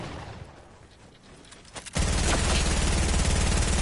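In a video game, SMG gunfire starts abruptly after a quieter stretch and continues as a loud, rapid, continuous burst of shots close by.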